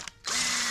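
Power drill boring holes through car sheet metal during a restoration, a short burst of high whining spin that starts after a brief click.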